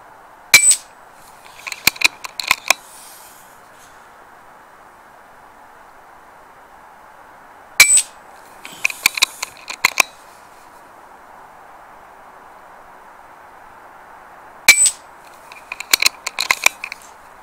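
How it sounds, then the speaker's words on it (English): Rifle fitted with an ATN X Sight II HD scope fired during night shooting: three sharp, loud cracks spaced about seven seconds apart, each followed by a short cluster of metallic clinks, over a quiet steady hum. "Lost count of how many shots."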